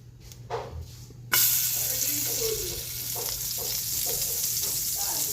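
Butter sizzling in a frying pan for a Filipino sauté: a quiet start, then a sudden loud burst of steady crackling hiss that continues close up.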